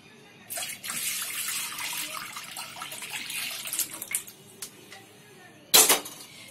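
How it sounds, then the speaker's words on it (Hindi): Milk is poured into a pan that already holds a little water for boiling, a close, rushing stream lasting a few seconds, then quieter trickles and a sharp metallic clank near the end. "फिर इसके बाद दूध डालेंगे।"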